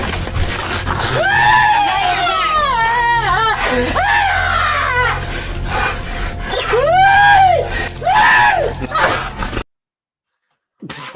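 A man screams in long, wavering, high-pitched cries, loud and close, in several drawn-out bursts with breaths between, ending in a sudden cut to silence.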